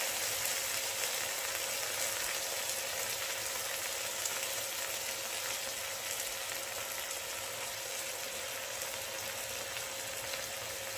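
Balsamic vinegar and onions reducing in a pan: a steady, soft, even sizzle and bubbling hiss that holds without a break, with no voices.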